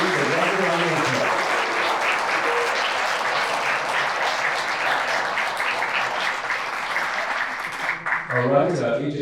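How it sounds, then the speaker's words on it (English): An audience at an international humanist conference panel bursts into sustained applause, a full, even round of clapping lasting several seconds before tapering as a voice begins speaking. "Please join me in giving the wonderful round of applause."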